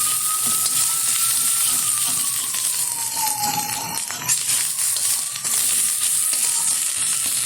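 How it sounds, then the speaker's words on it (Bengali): Spices fry with onion in a pan, giving a continuous close sizzle with a few light metallic clinks as the mixture is stirred. "পেঁয়াজের সাথে মশলাটা কষিয়ে নিচ্ছে"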